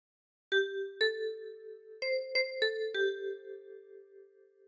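A ten-key kalimba plucks a short phrase of Amazing Grace: six bright, ringing tine notes, the first two about a second apart and the rest closer together, each sustaining and overlapping, played alone and close.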